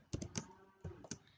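A few quick taps of a computer keyboard while code is typed, close and fairly quiet, in two short bursts with a pause between.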